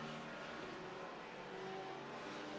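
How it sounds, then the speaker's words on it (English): A race car engine drones steadily at a distance on a dirt speedway, a continuous buzzing roar that holds constant throughout with no voices. "That car does sound like it's powered, but not by much"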